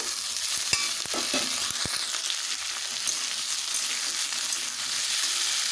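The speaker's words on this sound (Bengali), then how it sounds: "পটলগুলোকে আমি ভালোভাবে ভেজে নিয়েছি। এবারে দিয়ে দেব আলু।" Pointed gourd, potato and ridge gourd fry in a pan with a steady, close sizzle, broken by a few sharp knocks of a spatula stirring in the first two seconds.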